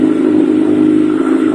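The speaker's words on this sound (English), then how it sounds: "Start the engine up." The engine of a 2011 Kawasaki Ninja ZX14 runs close and loud with a steady, low, even hum and no revving, and no one speaks.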